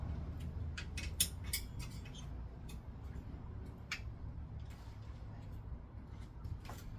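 A 5mm hex tool works on the hydraulic disc brake caliper of a bicycle in a bike shop, giving faint, scattered metallic ticks and clicks over a quiet room hum.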